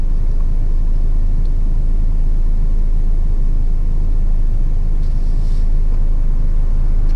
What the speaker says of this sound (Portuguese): Eu vou deixar aquele carro ali passar, que tá vindo ali